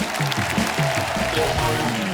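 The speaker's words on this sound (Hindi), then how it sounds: "पहले तो इस बात के लिए ताली होनी चाहिए इनके लिए।" Studio audience applause on a comedy talk show, loud continuous clapping with a voice and some musical tones running underneath.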